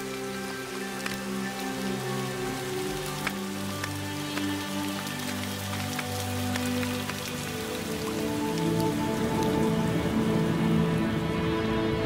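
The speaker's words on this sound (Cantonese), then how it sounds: "第一滴雨水令沙漠恢復生機" Rain falls steadily on desert ground, with a continuous patter of drops that grows slightly heavier toward the end, over soft sustained musical tones.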